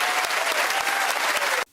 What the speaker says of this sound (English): Can we have a round of applause for that young man's cock?